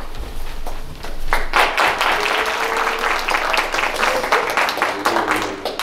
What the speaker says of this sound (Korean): 할렐루야 뜨겁게 박수치며 환영해 주시기 바랍니다.